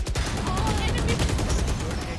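A Valorant match delivers a dense, loud burst of rapid gunfire, crackling shots packed close together over a couple of seconds.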